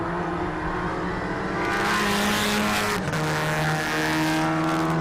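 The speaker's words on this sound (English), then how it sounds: "Drivers pushing their cars to the very limits." Volkswagen Polo race cars in a national championship round of the 2021 MRF MMSC Volkswagen Championship roar around a track, engines revving hard and shifting pitch as several cars pass close, with a hint of tire squeal.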